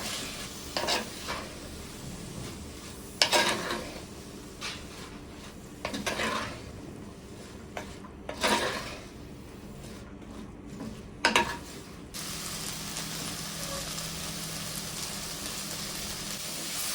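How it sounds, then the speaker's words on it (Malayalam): Bitter gourd stirred with salt in a frying pan, sizzling steadily with several sharp scraping stirs of the spatula; the frying carries on alone after the stirring stops. "ഇനി ഇതിലേക്ക് ഉപ്പും കൂടി ചേർത്ത് കൊടുത്ത് കുറച്ച് നേരം കൂടി ഇളക്കിയെടുക്കാം."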